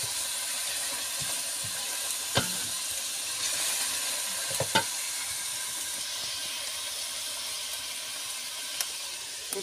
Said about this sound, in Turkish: Böyle soğanımı ateşte soteliyorum.